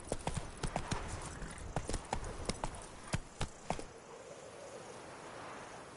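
Roach the horse trots in The Witcher 3, its hooves clip-clopping in a quick irregular rhythm close by, then slowing and fading out near the end with no talk.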